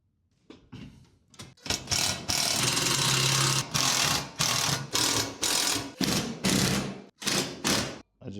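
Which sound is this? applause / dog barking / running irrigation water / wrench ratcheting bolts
wrench ratcheting bolts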